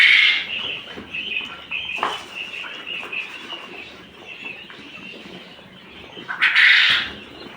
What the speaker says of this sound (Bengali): এখন সব পাখি এখানে এসে জড়ো হচ্ছে